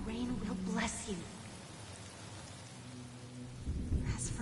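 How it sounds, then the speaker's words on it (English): Steady rain hisses in a video game cutscene while thunder rolls low underneath and swells near the end, with no voices. "The rain will accompany you, and the rain will bless you."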